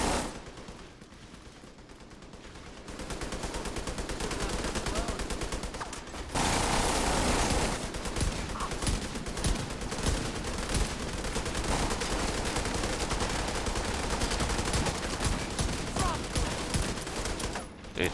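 Rapid volleys of pistol fire from the exotic Regulus in The Division 2 video game, loud and sustained, with shots packed closely together over a continuous backdrop of in-game noise.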